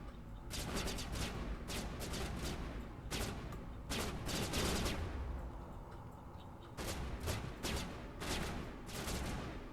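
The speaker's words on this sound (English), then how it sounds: "Where are they still shooting at?" Gunfire in the Mass Effect video game: repeated clusters of sharp shots over a rumbling battle background, fairly quiet overall, with short gaps between bursts.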